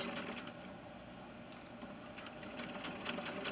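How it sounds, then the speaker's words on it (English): A sewing machine stitches around the edge of a fabric collar, giving a steady, close mechanical whir that runs without a break and without talk. "I'm going to lift my foot, pivot on my needle, and now sew to the end."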